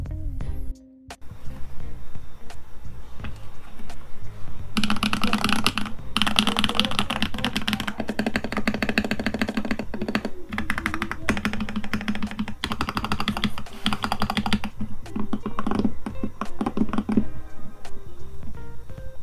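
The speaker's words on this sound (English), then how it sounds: "And don't worry, we also have a sound test for this keyboard." Rapid, steady typing on a custom-built mechanical computer keyboard, with dense clacking keystrokes and occasional heavier thocks of the spacebar or other large keys, close and loud, running continuously without talk.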